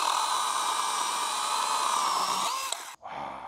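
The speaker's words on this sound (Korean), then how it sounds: "지금부터는 이게 장작을 만드는 과정을 한번 잘라보도록 하겠습니다" A small electric chainsaw cuts firewood with a loud, steady, high-pitched motor whine. The pitch sags near the end as the chain bites, then the sound cuts off abruptly, with no talking.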